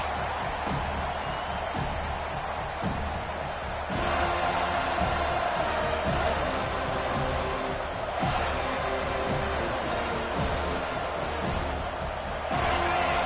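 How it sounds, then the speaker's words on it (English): An American football video game stadium crowd roars steadily throughout, a dense wash of cheering and noise with occasional louder surges and thumps. "It's early, but this crowd is fired up. Listen to this noise here."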